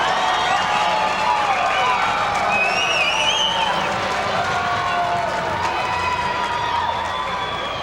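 A large stadium crowd cheers and shouts at a women's international soccer match, Canada against Haiti, with whistles and high calls riding over a dense, sustained roar, commentary under it.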